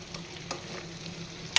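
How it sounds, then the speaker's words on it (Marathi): Raw mango pieces stirred in a hot pan make a brief, steady sizzle with soft scraping strokes, ending in one sharp click of the utensil. "छानपैकी कैऱ्या मी ढवळून घेते."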